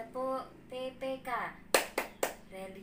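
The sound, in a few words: class clapping the PPK literacy clap routine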